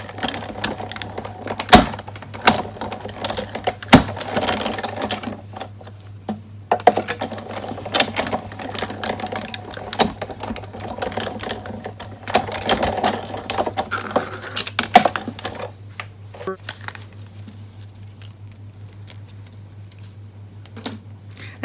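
A die-cutting machine cranks dies held with washi tape through card, giving a steady mechanical whir with scattered clicks and clunks up close. It stays fairly constant for most of its length and eases off near the end.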